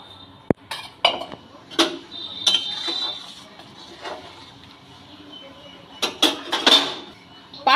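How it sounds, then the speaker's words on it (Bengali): Jute leaves are mixed into boiled lentil dal in a pot, with sharp metal spoon clinks and scrapes against the pot coming in irregular clusters and quiet gaps between them. "সিদ্ধ করা ডালের সাথে পাট শাকটা আমি মিশিয়ে দেব।"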